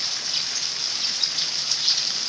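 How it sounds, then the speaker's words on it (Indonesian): Rain pours steadily during a behind-the-scenes shoot for a Sundanese comedy film, a dense, even hiss of drops that stays constant throughout, with no voices. "Hujan, Bos."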